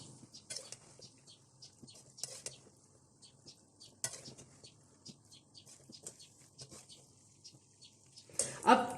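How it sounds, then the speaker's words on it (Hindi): Chicken pasta being stirred through its sauces in a pan, with soft, intermittent scraping and clinks of a utensil against the pan, quiet and close, then a louder clatter at the end. "पास्ता डालने के बाद बहुत अच्छी तरह से इसको मिक्स कर लेंगे ताकि तमाम सॉसेस इसमें अच्छी तरह से मिक्स हो जाए"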